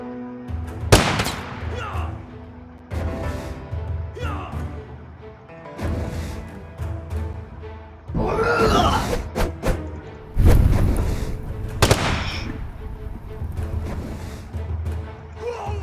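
Battlefield gunfire in the video game Totally Accurate Battle Simulator: scattered sharp shots and thuds at irregular intervals, with a few louder bursts standing out over a busy bed of game noise and low voices.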